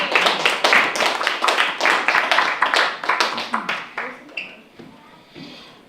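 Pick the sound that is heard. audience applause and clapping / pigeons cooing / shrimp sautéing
audience applause and clapping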